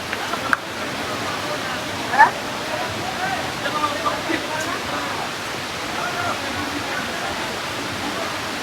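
Steady broadband rush of falling water from a waterfall close by at Napittachora, Sitakunda, constant throughout with a couple of brief clicks.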